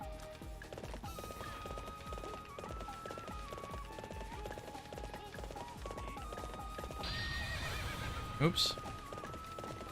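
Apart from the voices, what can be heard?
horse neighing and hoofbeats in a video game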